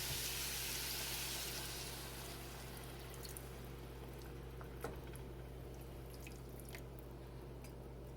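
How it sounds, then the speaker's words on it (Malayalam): A cup of water poured onto chicken cooking in a pot for Chicken Naalukettu brings a steady, close hiss and bubbling sizzle, loudest at the start and then settling to a constant simmer, with a few faint drips. "ഞാനിവിടെ ഒരു കപ്പ് വെള്ളമാണ് ആഡ് ചെയ്തത്"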